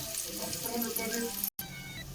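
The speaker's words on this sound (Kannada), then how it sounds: "ಈಗ ಫ್ರೈ ಆಗ್ತಾ ಇರಲಿ ಫ್ರೆಂಡ್" Onions sizzling and frying in a pan, a continuous close hiss with a brief cut near the end.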